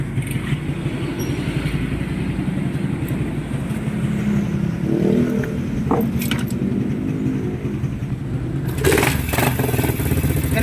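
A motorcycle engine idles steadily and close through the whole stretch, started during an oil job on the cylinder head, with a brief metallic rattle near the end and no speech.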